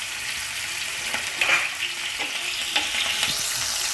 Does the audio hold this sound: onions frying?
yes